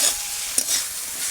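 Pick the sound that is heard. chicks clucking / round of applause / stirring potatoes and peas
stirring potatoes and peas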